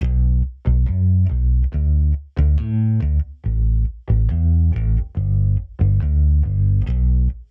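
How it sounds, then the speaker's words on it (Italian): A funky thumb-style electric bass from the Kontakt Icon Bass library, layered with a distorted Nexus bass, plays a punchy rhythmic riff of short repeated notes with brief gaps, loud and upfront with no voices. "Ho utilizzato un basso elettrico dalla libreria di Kontakt Icon Bass, preset Funky Thumb, suono open."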